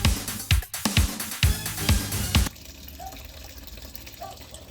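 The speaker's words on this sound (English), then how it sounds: "Pouring old gas in this car." Old gasoline pours from a pump into a Porsche 944 in a rough, gushing stream with several splashy surges, close and fairly loud, then stops, leaving quieter background noise.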